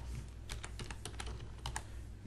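Someone types on a computer keyboard with quiet, fairly quick clicks, some keys struck singly and others in small bursts, at close range and at low volume with no voice over it.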